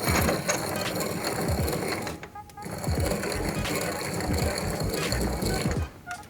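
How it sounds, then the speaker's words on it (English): Small hand-cranked piston ring grinder grinding a chrome piston ring, a close, steady scraping rasp with a short pause midway, heard alone without talk. "Got this little piston ring grinder here."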